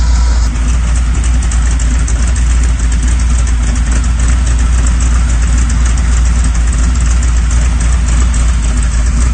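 A Chevy van engine idles after a cold start at -30°C, a loud, steady, close rumble with a faint knocking texture that holds unchanged for the whole stretch.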